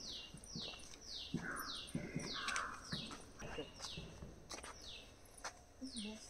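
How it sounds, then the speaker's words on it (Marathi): Birds chirping under shady trees, a repeating series of descending high calls at a steady rhythm with a few lower chirps in between, moderately close. "झाडांच्या सावलीमध्ये पक्ष्यांचा किलबिलाट"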